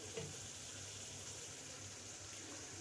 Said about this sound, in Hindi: यहाँ पे मैं 2 गिलास पानी इसमें डाल रही हूँ।